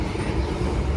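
An Argo Wilis panoramic passenger train runs along the rails, heard from inside as a steady, loud low rumble with a continuous hiss and no talking over its brief span.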